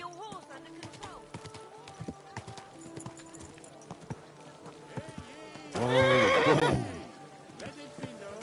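Horse neighing in the medieval open-world video game Kingdom Come: Deliverance 2, with intermittent hoof clip-clops and a loud, close whinny near the end over a busy town background with chatter.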